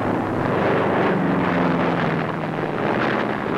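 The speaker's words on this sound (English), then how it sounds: "P-38 Lightning fighter plane fitted with loads of aircraft rockets under its wings." A P-38 Lightning fighter plane loaded with aircraft rockets under its wings drones steadily overhead at a WWII target range, a continuous loud roar with wind buffeting and no voices.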